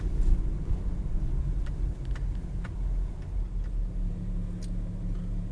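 Steady low rumble of city street traffic with a truck and cars in downtown Los Angeles, a continuous close engine drone with faint scattered ticks and no talking.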